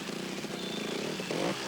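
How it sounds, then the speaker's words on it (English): A water-cooled two-stroke trial motorcycle engine with electronic ignition drones and revs steadily at an indoor trial competition in Paris Bercy, a continuous buzzing roar filling the arena. "Electronic ignition, water-cooled 2-stroke engines with fearful power"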